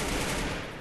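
An M10 fires in a video game, giving a dense, loud burst of rapid automatic gunfire that fills the brief moment without a break.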